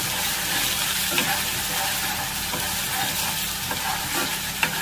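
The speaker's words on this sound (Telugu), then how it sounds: "ఈ ఆయిల్లో ఈ పేస్ట్ని అయితే మనం బాగా ఫ్రై చేసుకోవాలి" Ginger, garlic, onion and green chilli paste fries in oil over a medium flame, giving a steady close sizzle with a few light clinks of stirring throughout.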